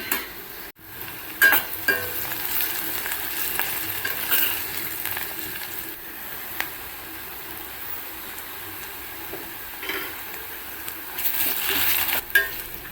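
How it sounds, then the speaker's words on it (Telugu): Ginger garlic paste frying in a pan over a low flame, a steady close sizzle broken by occasional scraping stirs, with no talk. "అల్లం వెల్లుల్లి పేస్ట్ వేసాం కదా ఇది పచ్చివాసన పోయి మంచి స్మెల్ వచ్చే వరకు ఫ్రై చేసుకోవాలి లో ఫ్లేమ్లో"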